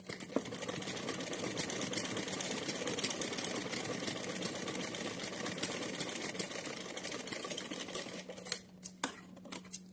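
A sewing machine stitches lace onto cotton fabric for a small summer outfit, a fast, even mechanical whirr running close and steady for about eight seconds before stopping, followed by a few handling taps.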